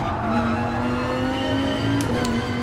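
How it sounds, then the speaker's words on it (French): A Viper race car in Gran Turismo Sport roars at steady high revs, loud and sustained, with a brief faint tire squeal near the end and no voices. "cette Viper a un bruit juste dément"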